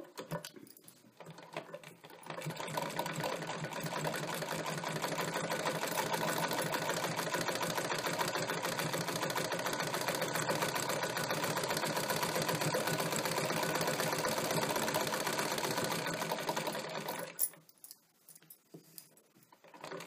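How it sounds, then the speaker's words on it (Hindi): A sewing machine stitches a Katori blouse in one steady, continuous run of about fifteen seconds, close and fairly loud, with brief handling noise before and after. No one talks. "अब हम इसके ऊपर में सिलाई करेंगे इस तरह से"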